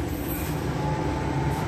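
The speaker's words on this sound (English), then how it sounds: "but here's my train. Should pop around in just a sec." Steady rumbling of a Sydney train rolling into a station, with a faint high metallic squeal from the wheels and a constant low drone, no voices.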